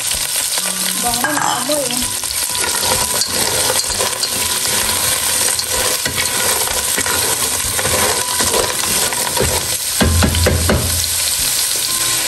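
Snails (sihi) sizzle and crackle steadily while frying in a pan, a dense, continuous hiss with occasional clinks and stirring, and a voice speaks briefly near the start.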